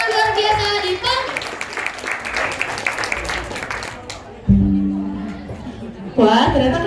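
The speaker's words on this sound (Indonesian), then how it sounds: "mohon tepuk tangan yang meriah untuk teman-teman kami yang sudah tampil dengan luar biasa di panggung" Audience applause and cheering at a school farewell after a traditional Indonesian costume show, dense clapping with laughter and chatter, while a presenter speaks over it and voices rise again at the end.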